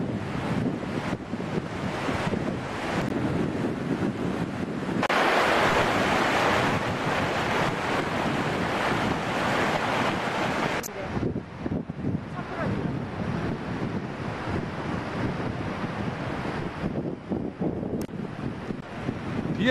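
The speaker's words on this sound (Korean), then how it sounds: "장백폭포가 소리가 지금 우르르 나고" Continuous roar of Changbai Waterfall on Mount Paektu, a loud, dense wash of falling water with wind buffeting the microphone, steady throughout with a slight drop midway.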